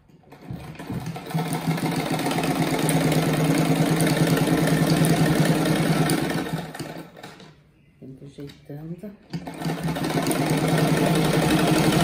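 Sewing machine stitching a child's patchwork rag mat, a steady fast mechanical whir that runs for several seconds, stops briefly while someone talks, then resumes.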